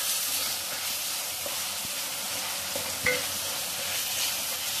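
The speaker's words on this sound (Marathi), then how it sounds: "गॅसची फ्लेम मोठी ठेवली आहे. इथे आपण टोमॅटो टाकूया." Tomatoes sizzling in a pan over a high gas flame, a steady, loud, close hiss with light stirring scrapes and a couple of small pops.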